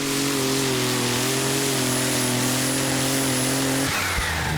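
Heavily modified pulling tractor engine at a Danish tractor pulling championship in Herning, roaring at sustained high revs during a winning run, a loud continuous drone that cuts off abruptly near the end.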